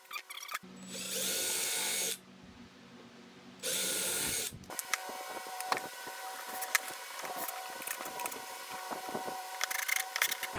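A power drill whirs in two loud, steady bursts of about a second and a half each, drilling pilot holes in a collapsible toere drum stand, followed by scraping, clattering handling noises nearby.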